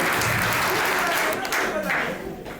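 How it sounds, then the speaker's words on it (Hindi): A stand-up comedy audience claps loudly and steadily, a dense, continuous burst of applause that fades slightly near the end. "जोरदार तालियां मैं चाहता हूँ एक बार अपने लिए बजाएं, स्वयं के लिए।"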